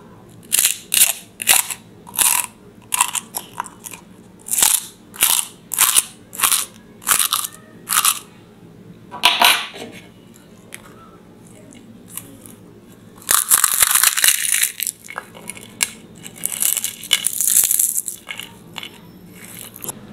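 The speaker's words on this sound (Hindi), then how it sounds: "आपने आवाज़ भी सुन लिया होगा कि कुरकुरी और क्रिस्पी है एकदम पूरी ये" Crispy fried pani puri shells crushed one after another, giving a long series of sharp, close crunches in a steady rhythm, then a pause and a denser, louder flurry of crackling breakage toward the end.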